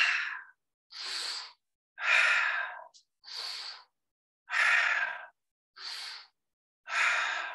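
Slow, deep yoga breaths alternate inhale and exhale, about eight distinct breathy pulses each lasting roughly half a second, close and clear with silence between them.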